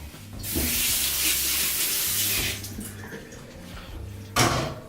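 Running tap water gushes steadily over a coffee brewer being rinsed in a sink, close and loud, stopping briefly before a short final splash.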